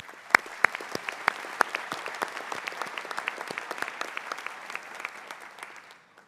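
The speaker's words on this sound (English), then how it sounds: "So let's also acknowledge them with a round of applause." Applause at a graduation convocation, many hands clapping in a dense crackle of sharp individual claps that holds steady and then tapers off.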